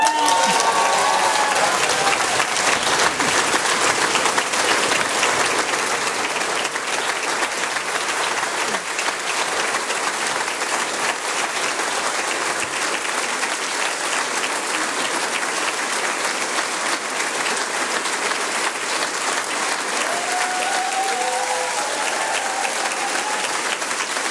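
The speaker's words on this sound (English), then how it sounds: "There's a lot of cheering, and Andy Burnham's about to speak." Sustained loud applause with cheering from a large crowd fills the hall at a Labour Party leadership announcement, dense and continuous throughout with scattered whoops and faint voices underneath.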